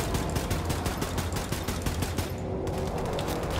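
Rapid, continuous automatic gunfire rattles from Wolfenstein II: The New Colossus, dense and loud from start to end with only a brief thinning near the middle, no voices over it.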